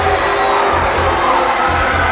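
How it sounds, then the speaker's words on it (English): A Bedford crowd cheers at a boys' high school basketball quarterfinal, a loud continuous roar of voices packed into a gym. "the Bedford crowd's exploding"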